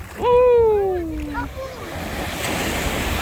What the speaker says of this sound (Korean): 물보라이기도 하면서 바닷물 거품이야